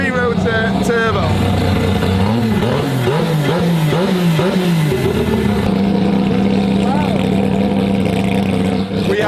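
A three-rotor turbocharged rotary-engine car at a race track revs loudly, with rising and falling engine pitch in repeated bursts and then a sustained high drone, while people talk nearby.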